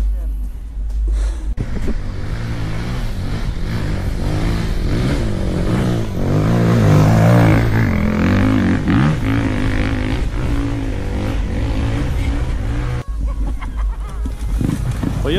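ATV quad engine revving during an enduro ride, a loud buzzing rev that swells and falls over muddy, hilly terrain, with people talking over it.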